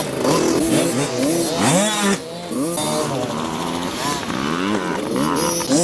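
A 50cc motocross bike engine revs and buzzes continuously at close range, its pitch rising and falling with throttle changes through the whole stretch, loud and steady.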